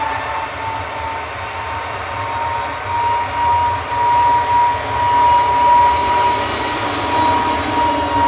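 An easyJet airliner on flight 711 to Belfast at Manchester Airport gives off a steady, loud engine roar with a faint high whine, swelling slightly toward the end and heard alone.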